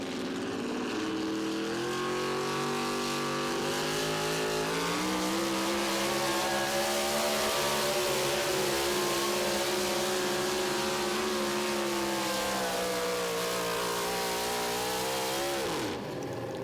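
A four-wheel-drive pulling truck roars at a tractor and truck pull in Tomah, Wisconsin, its engine holding a loud, steady high-rev drone for the full stretch before cutting off abruptly at the end.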